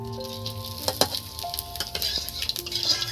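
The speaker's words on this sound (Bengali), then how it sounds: "দুটো শুকনো লঙ্কা, দারুচিনি, জিরে, দুটো এলাচ আর দুটো তেজপাতা ওই মাছ ভাজার তেলের মধ্যে আমি দিয়ে দিচ্ছি।" Dry chillies, cinnamon, cumin, cardamom and bay leaves hit hot fish-frying oil and sizzle steadily up close, while a utensil clinks and stirs now and then. No one speaks.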